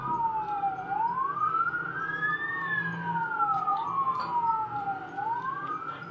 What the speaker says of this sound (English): The cops arrived, blasting their sirens